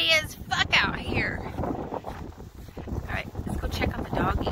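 Strong wind gusts across a microphone outdoors in a snowy rural setting, producing low rumbling buffets under a person talking throughout.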